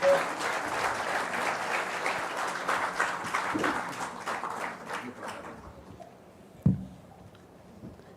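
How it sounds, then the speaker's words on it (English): A hall audience at a transit-oriented development workshop gives a dense round of applause as a panelist receives a memento. It fades out after about five seconds, followed by a single dull thump in near silence. "A huge round of applause, please"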